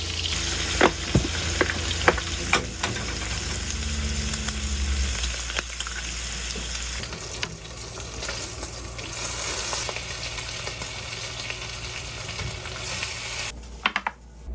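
Breakfast fries in a pan aboard a boat, giving off a steady, close sizzle with a few clinks of stirring and utensils. Near the end a brief clatter breaks in, and no one speaks.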